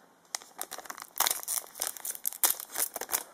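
Crinkling and tearing of a Cardfight!! Vanguard BT06 Breaker of Limits booster pack wrapper opened by its side tab, a close run of quick, irregular crackles and rips that builds through the middle, with no talking.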